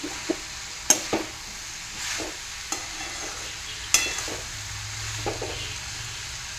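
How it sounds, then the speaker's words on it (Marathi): Mixed vegetables with onion masala sautéing gently over a low flame, a soft, quiet sizzle broken by a handful of sharp utensil taps and scrapes against the pan. "छान अशी आपल्याला ही भाजी मंद आचेवर परतून घ्यायची आहे"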